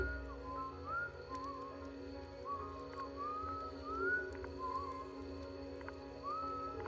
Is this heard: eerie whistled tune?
yes